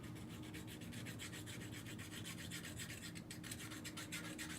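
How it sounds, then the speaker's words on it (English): A metal file rasps the corroded blade of a furnace flame sensor in quick, steady back-and-forth strokes, close up and continuous, with no talking. "Sand the blade off to where it's nice and shiny."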